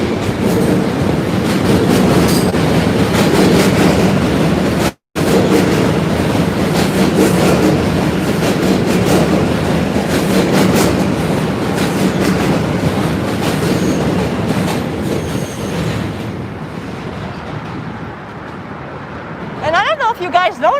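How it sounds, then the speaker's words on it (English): A New York subway train rumbles past on the Williamsburg Bridge at night with clattering wheels and a steady roar that fades toward the end, leaving a few squeals. "Oh, here comes another train."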